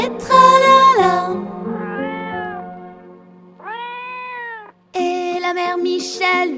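A cat meows loudly and close up several times in a row, with long drawn-out calls separated by short pauses, and no other sounds alongside.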